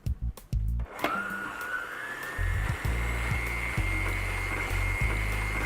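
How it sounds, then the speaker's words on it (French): Electric mixer whirring as it mixes brioche dough with yogurt, starting after a few clatters and settling into a steady high motor whine with faint thumping, close and alone. "on met notre batteur, on referme et c'est parti. On va mélanger le tout pendant 1 minute."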